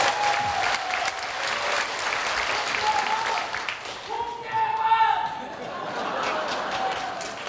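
Audience applause at a policy debate forum in Pyeongtaek, a steady wash of clapping from a hall crowd lasting several seconds, with voices and a brief chuckle mixed in.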